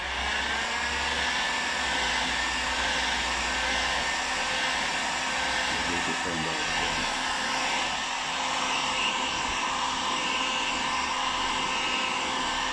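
A heat gun blows steadily on a Land Rover Discovery 2 Td5 headlight being split for repair, a constant loud whooshing fan-and-heater drone held close throughout.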